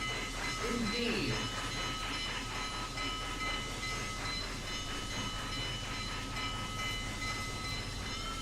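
Steam locomotive sounds in a Roblox train game: a steady loud hiss and rumble with rhythmic chuffing and clatter throughout, under a constant layer of high whine.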